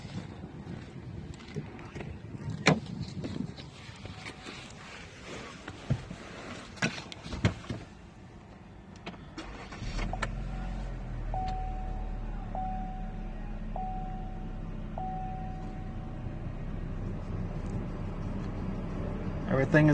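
A 2018 Chevrolet Equinox 1LT starts after some handling noises, then settles into a low steady idle hum that continues, close and moderate, with someone speaking over it.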